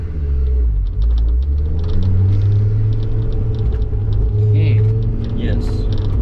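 A tuned Ford Focus ST drives the Nürburgring, its engine a loud, close, continuous rumble with rising revs, while voices talk over it inside the car.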